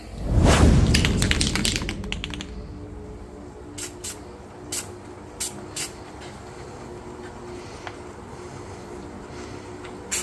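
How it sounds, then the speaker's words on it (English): A spray paint can hisses out a long burst up close onto a Halloween skeleton decoration, followed by several short sharp spritzes spaced apart against a quiet background. "I'm actually hit that with a little bit of spray paint"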